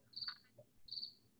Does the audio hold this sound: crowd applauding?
no